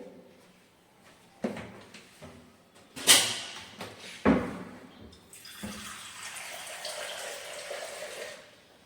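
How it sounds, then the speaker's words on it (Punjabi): Water splashes and pours into a small bowl for several seconds, a steady hiss following a few sharp knocks and clatters near the start. "ਇਹ ਦੇਖੋ ਜੀ ਮੈਂ ਪਾਣੀ ਪਾਤਾ ਇਹਦੇ ਵਿੱਚ"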